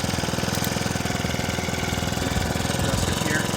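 A Chinese outboard motor runs loud and close with a steady, rapid mechanical chugging that holds an even pulse throughout, with no talk over it.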